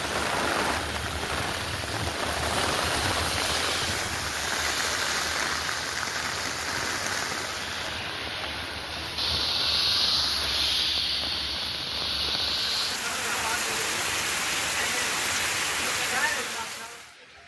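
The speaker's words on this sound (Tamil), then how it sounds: "பலத்த காற்றுடன் பெய்த கனமழையால் பல்வேறு" Heavy rain driven by strong wind makes a dense, steady roaring hiss that barely changes in level throughout.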